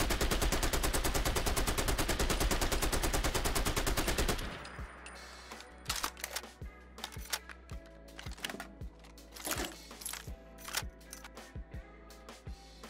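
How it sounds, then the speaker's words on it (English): M60 machine gun from a Fallout 4 mod firing a long, loud, unbroken burst for about four seconds, then a reload of scattered sharp metallic clicks, clacks and rattles. "That is the reload animation for the M60."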